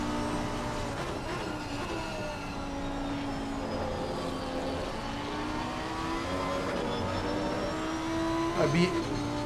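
GT race cars, among them a Lamborghini, lapping Donington Park in the rain, with engines droning and shifting pitch as they pass at a distance under steady commentary.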